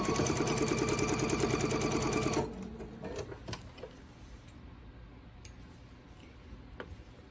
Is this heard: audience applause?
no